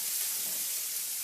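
Onion frying in a pan, a dense continuous hissing sizzle, close and steady throughout with no voices.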